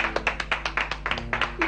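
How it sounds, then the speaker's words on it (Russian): A small group of people claps in a quick, uneven patter for a couple of seconds, close and moderately loud, with no voices over it. "Аплодисменты."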